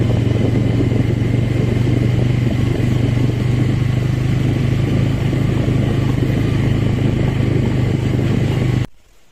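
Motorcycle engine running steadily close by with a continuous low rumble and light clatter, then cutting out abruptly as the bike stops near a village temple.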